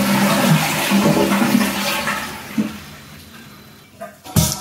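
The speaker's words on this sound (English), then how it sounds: "you're going to do this just by flushing the toilet completely" A toilet flushed completely to drain the tank during a leak repair: a loud rushing gush of water that gradually subsides into quieter trickling and refilling, with a couple of clunks near the end.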